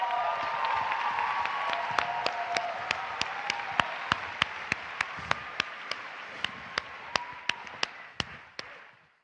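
A conference audience at an opening ceremony in Seville applauds, a dense wash of clapping with sharp individual claps punctuating it, fading toward the end.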